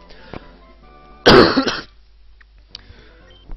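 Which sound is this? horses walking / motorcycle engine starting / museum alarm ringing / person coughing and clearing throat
person coughing and clearing throat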